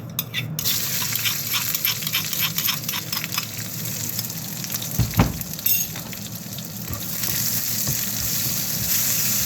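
Steady crackling sizzle of chilies frying in hot oil, close and continuous, with a brief stir or clatter midway.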